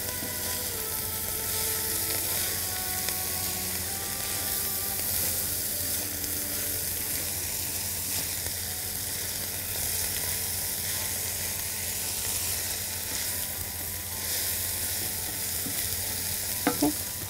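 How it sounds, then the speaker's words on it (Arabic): Cabbage being stirred and fried in a pan, a steady close sizzle with repeated utensil scrapes and clinks throughout and a sharper clack near the end, no speech. "وعايزين نفضل نقلب لأن عايزين الكرنب كمان يدبل."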